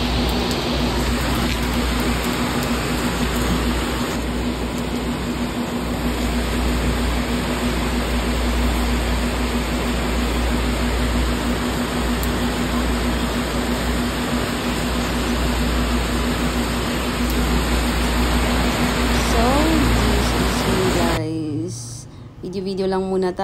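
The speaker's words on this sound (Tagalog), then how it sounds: "ang lakas talaga ng ulan" Heavy rain pours continuously during a stay in Laguna, a loud dense roar that stays steady for most of the clip before it cuts off abruptly near the end.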